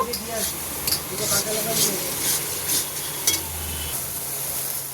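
Pointed gourd fries in spiced oil with salt and grated paneer, a soft steady sizzle under a voice, with a few light clicks of a spatula against the pan.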